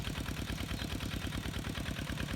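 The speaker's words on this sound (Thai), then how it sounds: "ที่ติดเครื่องได้ยินเครื่องอยู่นั้นเป็นเครื่องสูบน้ำ" Water pump engine running steadily in a rice field, a low chugging idle that holds an even rhythm throughout, fairly faint and with no voices.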